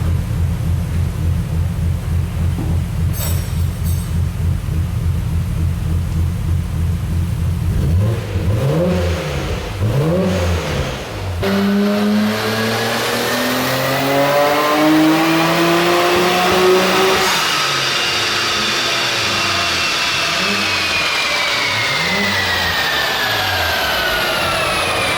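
Boosted car engine on a test run, revving hard: a steady drone first, then repeated swooping climbs and drops in pitch as the throttle opens and closes, loud and close, with no talk.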